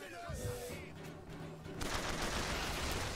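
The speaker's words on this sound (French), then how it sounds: "Ça tire d'où?" Bursts of gunfire in the BioShock Infinite video game crackle in a dense, rapid stream, getting louder and steadier in the second half, with game tones and effects underneath.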